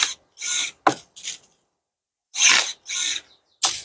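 A cordless electric pruning shear fitted with an extension pole, rated for 35 mm branches, snips at a branch in several short bursts of crisp cutting and motor whir separated by silent pauses, close and fairly loud.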